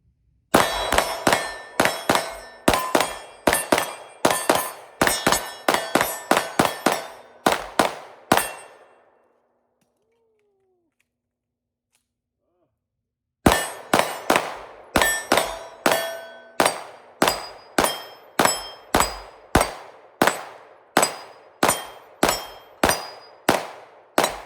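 A Jacob Grey Hex 1911 pistol fired in rapid, evenly spaced strings of sharp, loud reports that ring with a metallic clang, one string of about fifteen shots, a pause of a few seconds, then a second long string.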